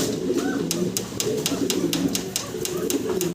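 A pair of red German Shield pigeons coo in low, throaty murmurs close by, accompanied by a steady series of sharp rhythmic clicks throughout.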